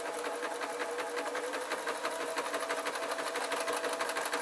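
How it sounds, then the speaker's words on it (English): A sewing machine runs steadily, stitching a square of fabric with a fast, even mechanical whir and rhythmic needle clatter, close and continuous with no talk. "I can see that it's sewing quite nicely"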